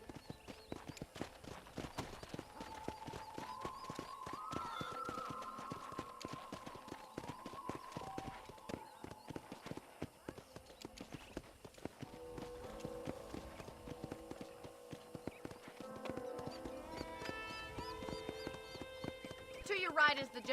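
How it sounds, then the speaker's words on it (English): Horse hooves clip-clop steadily in the Red Dead Redemption video game as a rider tours a ranch, the rhythmic plodding continuing throughout under character voices and soft music. "I picked out a fine horse for you."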